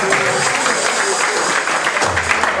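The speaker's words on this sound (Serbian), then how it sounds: "veliki aplauz" Applause for a band at an association's festival evening in a Belgrade venue, a dense, loud clapping crowd sustained throughout with some voices mixed in.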